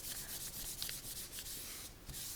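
A cotton pad rubs excess oil off a sheet of paper being made into vellum, a soft, close, repeated brushing swish in quick strokes, quiet and without voices.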